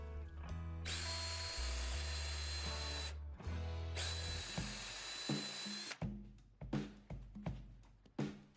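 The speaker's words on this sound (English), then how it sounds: "I used a 3/8 inch brad point drill bit to drill the holes for the threaded inserts" A power drill with a 3/8 inch brad point bit whines steadily through white oak in two long bursts, then several short, sharp pulses of drilling, close and loud.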